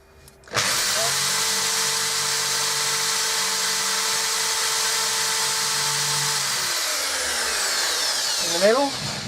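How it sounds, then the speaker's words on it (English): A power drill bores into the wooden pillar of a garden bird table, a steady whining motor hum running close and loud for about six seconds before winding down, with a brief sputter near the end. "so just line it up, take a drill."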